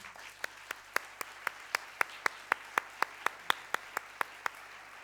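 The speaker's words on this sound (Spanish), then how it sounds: "con un fuerte aplauso, damos la bienvenida a Alejandro" Sparse, evenly spaced claps ring out one by one as an audience welcomes a speaker named Alejandro, a thin and slow rhythm of about three claps a second rather than a full ovation, over a quiet hum.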